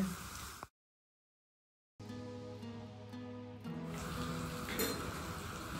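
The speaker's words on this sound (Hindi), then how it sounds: "तब तक उधर मेरा मोरिंगा फ्राई हो रहा है।" Moringa drumsticks fry in a pan with a steady, moderate sizzle and crackle, cut by a short silent gap, then growing busier and fuller toward the end, with no voices.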